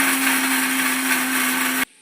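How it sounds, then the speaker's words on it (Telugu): A kitchen mixer grinder runs at full speed grinding tamarind, garlic and salt for a drumstick-leaf chutney, a loud, steady whirring drone that cuts off abruptly near the end. "ఇందులో తగినంత ఉప్పు వేసుకొని మిక్సీ పట్టుకోవాలి"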